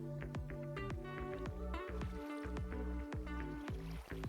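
Water buckets are emptied into dispensers in Minecraft, giving a dense run of repeated splashy, squishy pours with quick rhythmic clicks, fairly loud and continuous with no talking.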